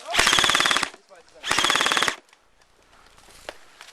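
Video game automatic gunfire in a 10 versus 10 match: two loud, rapid bursts of machine-gun fire, each under a second, close and dominant, followed by quieter distant shots and faint game noise.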